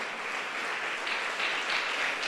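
A church congregation claps together in a dense, continuous round of applause, steady and moderately loud through the short stretch, with no voices standing out.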